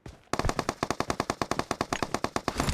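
Automatic gunfire in PUBG Mobile: one sustained burst of about twenty evenly spaced, loud, close shots in fast rhythm, starting abruptly after a brief quiet moment.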